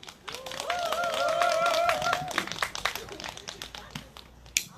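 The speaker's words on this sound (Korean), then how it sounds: "큰 박수와 함성으로 맞이해 주시면 대단히 고맙겠습니다" Scattered audience clapping at a candlelight rally in Seongju greets an arriving singer, with a drawn-out sung or shouted voice riding over it early, then sparse claps and taps as the cheering thins out.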